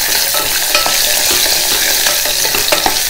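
Small onions sauté in a pan for a garlic kuzhambu, giving a loud, dense, continuous sizzle with quick stirring scrapes, close up with no voices.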